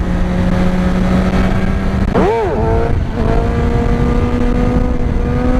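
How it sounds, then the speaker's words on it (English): A motorcycle engine drones loud and close during a wheelie, with a brief rev and dip as the clutch engages before the throttle settles and holds at one steady pitch. "You'll hear like the initial sound of the bike clutching up, and then you'll hear my throttle like just kind of level out, and it'll stay at that same point."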